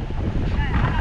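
Strong wind buffets the microphone near a boat at sea. It makes a brief, rough rush of noise, and faint voices mix in.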